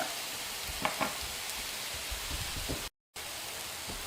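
Sliced steak for a Philly cheesesteak frying in a hot pan, a steady close sizzle with a few faint clicks and a brief dropout near the end, no talk.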